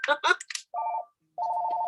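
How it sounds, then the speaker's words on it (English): Mobile phone ringing indoors: a brief burst of speech, then two sustained electronic ringtone tones separated by a short gap, clear and close. "This is what happens when you forget to put your phone on Do Not Disturb."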